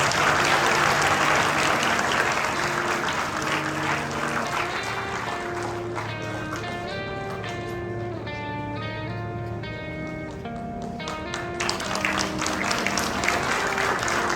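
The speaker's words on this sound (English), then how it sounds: "Can we hear a good round of applause for them?" Steady audience applause fills the whole stretch at a school investiture ceremony, dense clapping from a large crowd, loud and continuous, with music playing beneath it in the middle.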